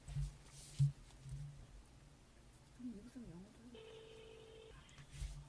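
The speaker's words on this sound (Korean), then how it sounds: "자, 그럼 제가 전화를 해보도록 하겠습니다." A telephone ring tone sounds as a call is placed from inside a car during a radio-style show, one steady burst of about a second over low background murmur, with faint voices around it.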